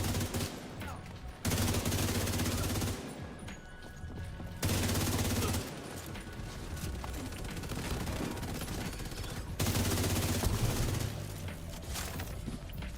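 Sustained bursts of machine gun fire in a Ubisoft video game, loud and dense, with brief gaps and heavier bursts returning through the stretch, a voice faintly underneath.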